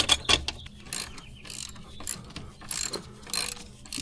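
A hand ratchet tightens intake bolts on a BMW G30 540i during an aftermarket intake install. Repeated bursts of close, rapid ratchet clicking come in short strokes over faint background noise, with no talking.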